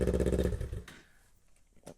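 A Kawasaki Ninja motorcycle with the muffler removed barks a loud, raw rev up close, the harsh engine roar cutting off within a second, followed by a faint clatter and quiet.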